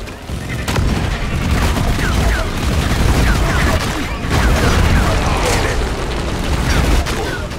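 Bosco, the combat drone in a sci-fi shooter, fires rockets amid a dense, continuous barrage of booms and gunfire, loud and sustained throughout with repeated explosive bursts.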